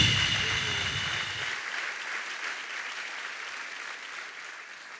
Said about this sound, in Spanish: ¿Cuánto le dan un aplauso a Jesús por eso?